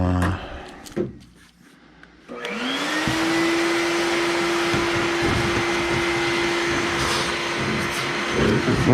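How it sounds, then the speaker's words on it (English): Vacuum cleaner cleaning out the back box of a wooden amp rack during a workshop build, switching on after a short pause with a loud, steady whine and rushing suction that holds close and constant. "I'll vacuum the back box."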